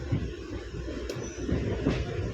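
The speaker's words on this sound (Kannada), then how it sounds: "ಸೊ ಇವಾಗ ಟ್ರೈನ್ ಎಲ್ಲ ಓಡ್ತಾ ಇದೆ." A moving train, heard from inside the carriage on a first trip by rail, gives a steady, moderately loud rumble of wheels and car noise, continuous throughout with no speech.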